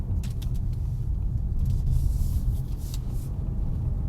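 2025 Ford Kuga ST-Line SUV driven hard around a roundabout, with a steady close rumble of engine and road noise and a few brief higher hissy bursts from the tyres.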